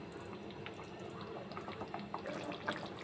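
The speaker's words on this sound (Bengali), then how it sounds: "এবার ভালো করে 2 মিনিট একটু ফুটিয়ে নেব।" Ilish posto with hilsa fish and green chillies simmers in a pan, giving faint, close bubbling and gentle popping from a thick sauce. It stays steady and quiet, with no voices.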